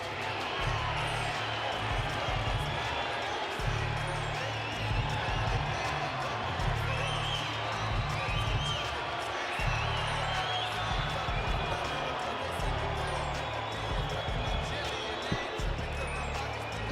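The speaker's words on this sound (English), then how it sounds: "It's a largely pro-Taylor crowd, as you can hear." A largely pro-Jermain Taylor crowd in a boxing arena at the Hopkins vs. Taylor middleweight title fight roars and cheers continuously, a loud, dense wall of noise with a commentator talking over it.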